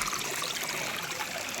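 A small streamside drain near a hill temple in the Himalayas, running low on water, gives a soft steady trickling hiss, close and continuous with no talking.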